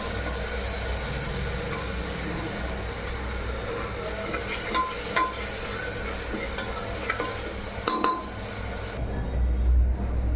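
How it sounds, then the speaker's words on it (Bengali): Goat fat and mixed spices are stirred in a frying pan, a steady sizzle with spatula scrapes and a few metallic clinks near the end, no one speaking. "মশলাটা আমি ভালোভাবে মিক্স করে দিচ্ছি।"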